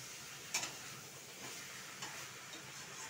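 Mutton is fried and stirred in oil in a pan, giving a quiet steady sizzle with a couple of sharp clinks from a spoon, one early and one softer later.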